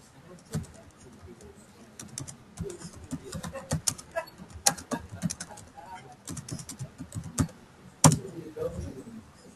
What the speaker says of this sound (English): Let's do typing it in here.